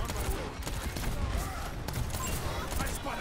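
Continuous gunfire and combat noise in Overwatch 2, with enemies shooting at a Reinhardt shield, forming a dense, steady clatter with talk underneath.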